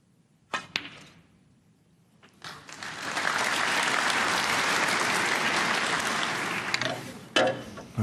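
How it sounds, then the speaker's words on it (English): A snooker audience at a German Masters semi-final applauds a shot: a couple of sharp ball clicks first, then a swelling wave of clapping that holds for several seconds and fades into a few final claps. "Well, he got a clap for it"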